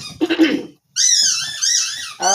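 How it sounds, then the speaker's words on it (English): Dogs working their new squeaky toys at close range: a scuffle of chewing and snuffling, then long, high, wavering squeals from the toys, one after another. "New squeaky toys."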